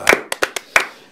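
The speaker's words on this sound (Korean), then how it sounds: "박수 칩시다" A few people clapping in a broadcast studio, five sharp, separate, close claps spaced irregularly rather than a full burst of applause.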